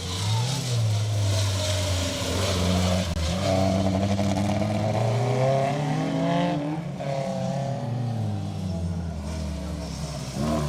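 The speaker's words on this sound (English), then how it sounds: "Owen Hughes and Chris Phillips in the Nissan Micra." A Nissan Micra rally car drives a closed stage on the Rali Menai Stages, its engine loud and continuous with rising and falling revs through gear changes, and a commentator talking over it throughout.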